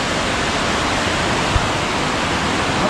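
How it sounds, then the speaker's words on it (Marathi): Hasane waterfall in the Konkan, flowing with a somewhat reduced stream, heard as a loud, steady broadband rush of falling water close by, with no voices. "अशा प्रकारे हा वॉटरफॉल आहे।"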